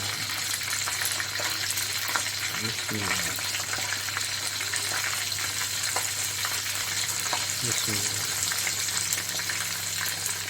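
Chicken wings for a KFC-style crispy recipe sizzle and crackle steadily in hot oil over lowered heat, with a few bubbling bursts and faint background noise in a home kitchen.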